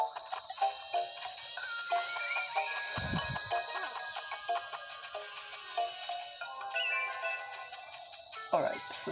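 A phone rings in the Pikmin 3 Deluxe video game, with bright electronic ringing tones repeating over several seconds beneath a talking voice.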